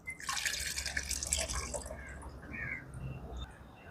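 Tamarind is squeezed by hand in a bowl of water for sambar, giving soft wet squelches and small splashes up close over a few seconds.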